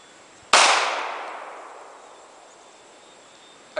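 A single sharp gunshot cracks out in the open toward a bottle target on an Alaska road trip, its report decaying slowly over about two seconds, with a faint click at the end.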